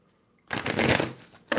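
A deck of tarot cards being shuffled close up, a dense riffling burst lasting about a second, with a short second flurry at the end.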